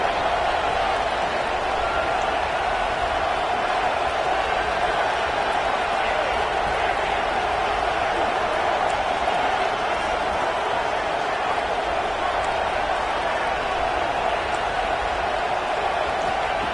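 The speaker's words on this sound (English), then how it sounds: "This crowd is trying to inspire this defense to make a big red zone stop." Stadium crowd noise in a football video game during a red zone defensive stand, a steady loud roar that holds without a break throughout.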